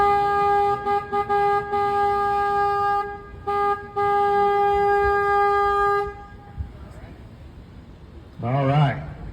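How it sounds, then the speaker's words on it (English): Tour boat horn on the San Antonio River Walk near a floodgate, sounding a few sustained toots with short breaks, loud and close, followed by a voice speaking after it stops. "I'm going to honk the horn right now."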